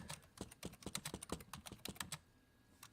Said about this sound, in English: It's hard to type with one eye.